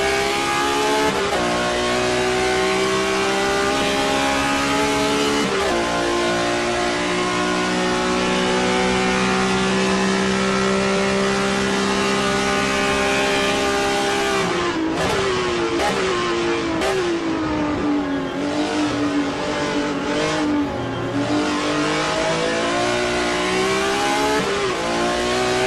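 BMW M1 Group 5 race car engine at Road Atlanta in a racing video game, a loud, constant onboard drone climbing and dropping through gear changes, with sharp revving swings in the second half.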